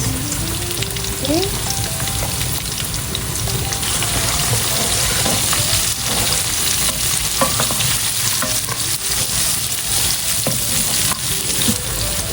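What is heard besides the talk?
onions, chilies and lemongrass frying in a pan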